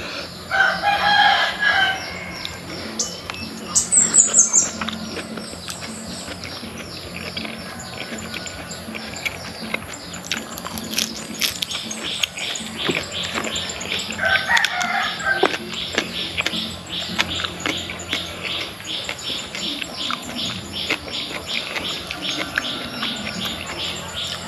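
Chickens cluck and a rooster crows repeatedly in a rural yard, fairly close and loud, with insects buzzing steadily in the background.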